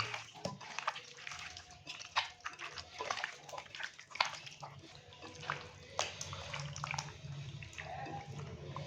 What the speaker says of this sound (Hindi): तो अभी हम इसको हाथ की मदद से अच्छे से मिक्स कर लेंगे ताकि जितने भी जो स्पाइसेस हैं वो चिकन के ऊपर अच्छे से लग जाएं।